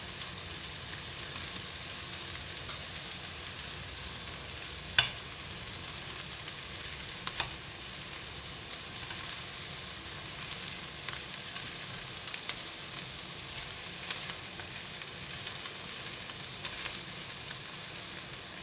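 Butterfly shrimp grilling in a pan give off a steady, close hiss of sizzling oil, with occasional faint clicks and taps of a utensil, and no voices.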